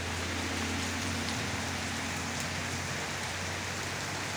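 Heavy rain pouring down in the Palmeira dos Índios and Estrela de Alagoas region of Alagoas, Brazil, a dense, steady roar of drops on surfaces with a low constant hum beneath, no voices.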